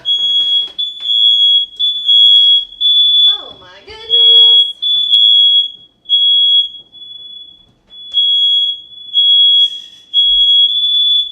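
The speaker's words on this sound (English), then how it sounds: "And there goes the alarm." While a meal is cooked in a home kitchen, with roasted potatoes in the oven, a smoke alarm beeps in a loud, shrill, regular pattern of repeated pulses. A person exclaims briefly partway through.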